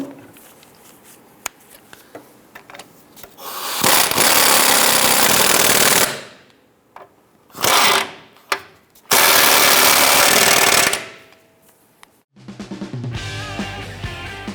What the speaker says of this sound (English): Let's go ahead and tighten these two down.